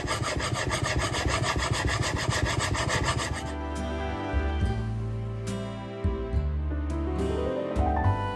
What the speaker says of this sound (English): Let's finely slice the ginger.